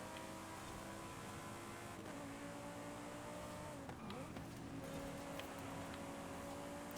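A Ferrari in Forza Horizon 5 drives past, its engine tone rising then sweeping down as it passes near the middle, over a steady background of game engine drone; some talk occurs.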